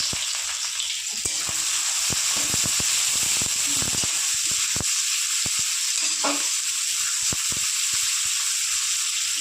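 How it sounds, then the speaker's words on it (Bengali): Garlic and chopped green chilli fry in hot oil, a steady loud sizzle and hiss running the whole time with scattered crackles and pops, no voices over it. "ভালো করে রসুন আর পেঁয়াজ লাল লাল হয়ে ভাজা হয়ে আসলে তারপর আমি দিয়ে দেবো কালো জিরে"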